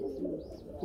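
An American long-tailed pigeon gives a brief, soft, low coo, heard alone.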